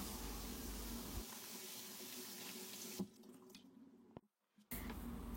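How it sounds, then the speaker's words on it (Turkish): Washed broad beans are drained of excess water, heard as a steady rush of running water that cuts off near the end with a few drips, then resumes briefly. The sound is close and there is no talking. "Fazla suyunu süzdürelim."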